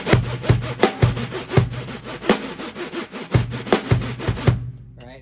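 An upside-down snare drum is played in a scratchy, DJ-style sixteenth-note groove, with rhythmic rasping strokes and sharp accents repeating loudly and closely before stopping abruptly.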